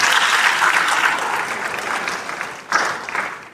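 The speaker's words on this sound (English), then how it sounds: "Let's give Ogun State also a big round of applause" Conference audience at an aviation event applauds for Ogun State, a full round of clapping that fades gradually, then briefly swells again before tailing off.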